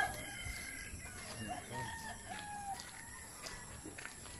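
Roosters crow and hens cluck at a poultry farm in rural Tanay, Rizal, a steady chorus of overlapping calls from several birds at moderate distance, no talking.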